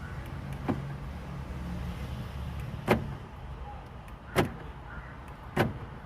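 A car answers a remote key at a key shop in Adyar, Chennai, giving three or four sharp clicks of its locks spaced a couple of seconds apart over a quiet hum, heard close and alone.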